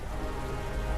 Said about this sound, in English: this uncanny storm, which not only dumps a tremendous torrential downpour